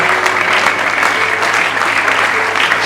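A church congregation applauds to acclaim the Lord at an apostle's ordination service, a dense, steady wash of clapping from a large crowd filling the room throughout.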